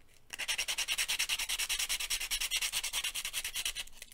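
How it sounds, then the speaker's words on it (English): Rapid rhythmic sanding strokes as support material is sanded off the back of a print, a steady scratchy back-and-forth rasp repeating several times a second, close and fairly loud, with no voices. "So we're just sanding off"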